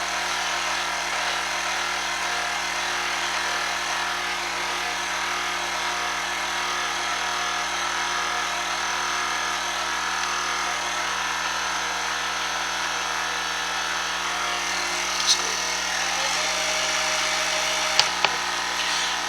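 An electric mixer beats sweet potato pie filling with a steady, unbroken motor whine that holds level throughout, with a couple of faint clicks near the end.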